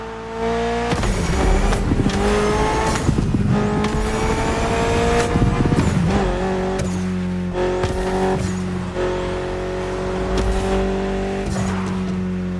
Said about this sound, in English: Mitsubishi gave us a nice inline 4-cylinder with already 280 horsepower